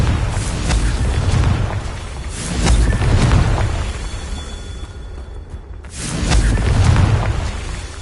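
Confringo spell explosions in the video game Hogwarts Legacy, heavy rolling booms that swell and fade in repeated loud blasts, with a brief lull between bursts.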